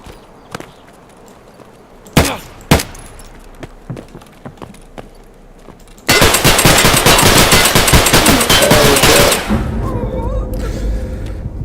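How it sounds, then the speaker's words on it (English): Gunfire in the shooter game Escape From Tarkov: scattered single shots and a few sharp cracks, then a loud, dense stretch of rapid close shooting lasting a few seconds before it eases into quieter noise. "He killed me with a semi, Emma."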